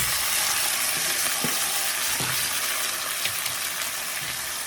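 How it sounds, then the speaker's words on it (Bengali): Fish sizzles loudly in a frying pan with coriander leaves, a dense, continuous hiss of hot oil close up with occasional soft knocks and no talking. "তো এখন আমি এই মাছটা আরেকবার দিয়ে দিচ্ছি ফ্রাই প্যানে"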